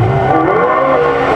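A Gould GR51B hill climb race car with a 4-litre Judd engine screams past at Gurston Down hill climb, a loud, steady high-revving engine note holding throughout.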